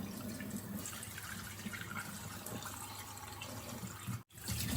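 Water runs into sausage casings to rinse them, a quiet, continuous trickling and splashing like a filling sink, with a brief break near the end.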